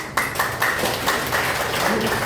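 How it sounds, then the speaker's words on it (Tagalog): A seminar audience claps in brief, fairly loud applause with sharp hand claps, while a faint voice speaks underneath. "Wala ba akong palakpak?"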